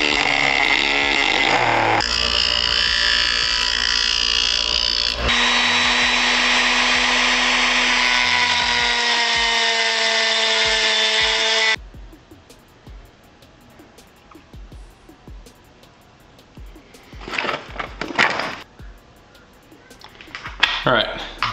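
A power tool cuts through an acrylic plexiglass sheet, a loud, steady high whine with shifting pitch for about twelve seconds, then stops, leaving quieter handling noises and a few short bursts.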